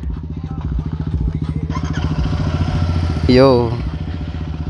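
A Royal Enfield GT 650 motorcycle thumps along steadily on the move, its rapid exhaust pulses loud and close, with a brief voice cutting in over the engine.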